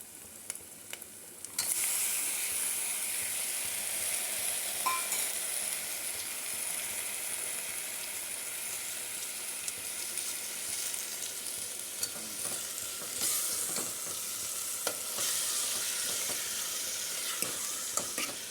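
Tomatoes sizzle and fry in a pan for a drumstick, brinjal and potato curry, with a steady hiss running throughout and occasional stirring scrapes, close by and without any talking.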